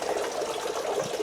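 Water running from opened faucets into crayfish farm tanks, a steady faint gushing and splashing flow with no voices.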